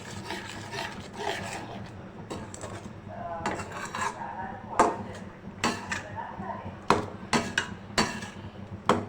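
Beef paye gravy mixed in a pot over a high flame, with rough scraping and rubbing of a spoon or spatula against the pot and a run of sharp clanks toward the end, up close.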